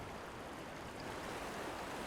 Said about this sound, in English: Water flows rapidly around boulders at the base of a cliff.